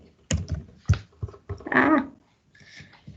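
Someone types on a computer keyboard: quick clusters of crisp key clicks in a few separate bursts, close and moderately loud, with a brief rustling noise in the middle.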